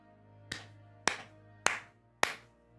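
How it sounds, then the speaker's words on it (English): Four sharp, evenly spaced claps ring out in a video game, Crimson Waves, set among Victorian vampires, each crisp hit trailing off briefly over a low steady background hum. "I hear another clap join in response."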